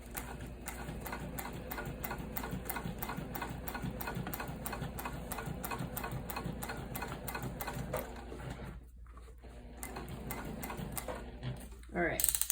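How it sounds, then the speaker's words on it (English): A sewing machine running a long basting stitch along a tote bag strap, its rapid, even mechanical ticking going on steadily with a low motor hum, then pausing briefly before resuming. "now I'm gonna switch to that basting stitch and continue stitching until I get to the other inside of the strap"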